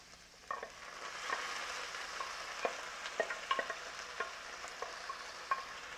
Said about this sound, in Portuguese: E aí vamos colocar o arroz.